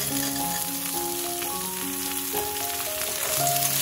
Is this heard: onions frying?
yes